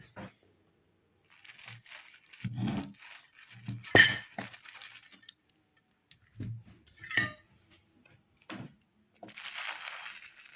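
A knife cuts through a soft raspberry shortbread pie in several short, close bursts of crumbly crunching and scraping, with a few light clinks against the plate and quiet pauses between the strokes.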